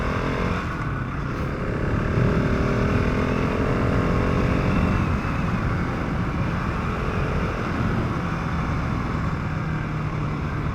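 A 2023 KTM 690 SMC R single-cylinder motorcycle on the move, with a continuous loud engine drone and heavy wind rush heard from the rider's position and holding steady throughout.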